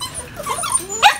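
A male brindle Phu Quoc dog gives a short, loud, close bark, with a whiny yelp leading into a sharp final burst.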